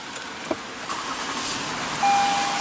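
A 2017 Lexus RX350 with a revised 3.5-liter V6 starts by push button: a sharp click, then a steady, close engine hum. A clear sustained tone joins for the final moments.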